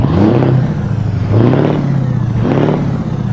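A Scania truck engine in Euro Truck Simulator 2 revving at idle with the window lowered, a loud, steady rumble swelling three times in rising and falling surges, with no voices.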